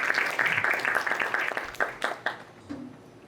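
Audience at a Korean Baptist church history forum giving a short round of applause, a thin, uneven patter of claps that tapers off in the room with a few scattered final claps.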